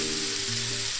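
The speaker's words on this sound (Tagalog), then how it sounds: "Gisa-gisa muna natin" Onions sauté in a hot pan with a continuous, dense sizzle, close and steady throughout the short moment, with no voices.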